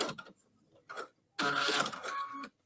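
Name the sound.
sewing machine stitching fabric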